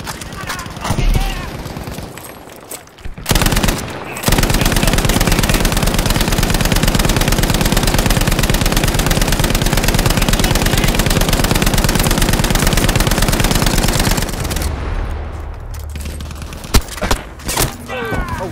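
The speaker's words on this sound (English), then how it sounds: "I'm just laying down suppressing fire like a madman right now" Sustained machine-gun suppressing fire in Battlefield 5, a long unbroken loud burst of rapid shots running for many seconds, with shorter gunfire bursts and a voice talking before and after it.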